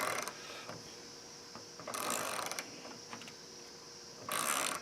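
Hand ratchet wrench turned by hand, giving bursts of rapid fine clicking in three separate runs with quiet pauses between, close and fairly crisp.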